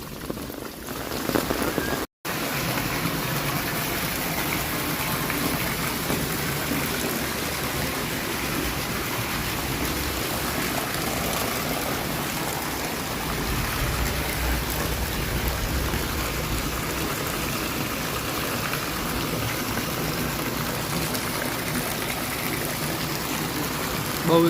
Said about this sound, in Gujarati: 2 દિવસથી સતત વરસાદ પણ ચાલુ છે.